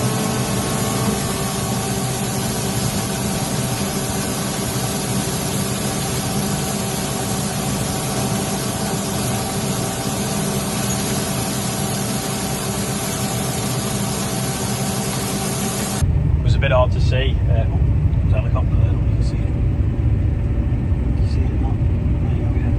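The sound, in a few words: tractor working a tedder shaking out straw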